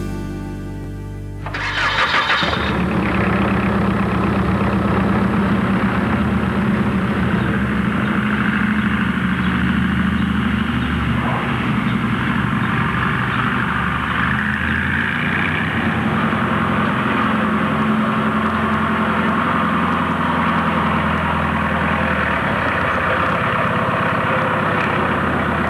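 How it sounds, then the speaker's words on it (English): A mini tractor trailer's engine cranks and catches after a brief quiet moment, then settles into a steady, loud, close-up idle with an even low rumble that runs uninterrupted for over twenty seconds, with no talking. "Mini tractor trailer. We'll take a look at mini tractor trailer."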